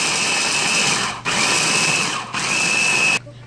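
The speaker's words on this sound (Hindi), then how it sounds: "अब हमें इसको ग्राइंड करना है" A grinder whirs loudly, pulverising pieces of fried besan dough into fine powder, running in three continuous bursts separated by brief pauses before stopping.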